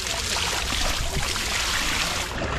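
Hot spring water trickling and splashing steadily around a bather in Munsyari, Pithoragarh, Uttarakhand, a continuous close wash of running water with no voices.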